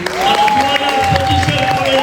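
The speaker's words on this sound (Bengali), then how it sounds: "আমরা যারা হয়েছি তারা এনাদেরকে হাততালি দিই।" Audience clapping for the millionaires at a Modicare training workshop, a loud, sustained room full of applause with a voice talking and a high steady tone running through it.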